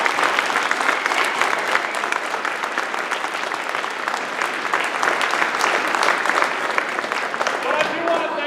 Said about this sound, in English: let's give the entire staff a round of applause